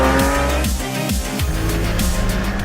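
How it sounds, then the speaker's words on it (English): A Porsche sports car rolls over metal potholes on a test track at about 40 km/h, its engine drone running steadily while tyres and chassis thump and rattle over the rough surface, close and loud. "driving over the metal potholes at 40 kilometers an hour"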